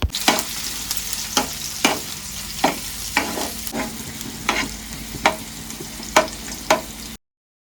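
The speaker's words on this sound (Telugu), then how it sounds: "గోల్డెన్ బ్రౌన్ కలర్ వచ్చే వరకు వాటిని వేగించుకోవాలి." Garlic, green chillies and onion fry in a pan for a pasta sauce, giving a continuous close sizzle broken by a dozen sharp scraping stirs at a steady pace, with no talking.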